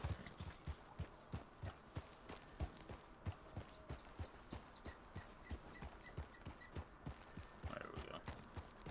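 Steady, rhythmic clip-clop of horse hooves in Red Dead Redemption 2, regular evenly spaced beats at a walking-to-trotting pace, fairly close, with a brief whinny-like sound near the end and no talking.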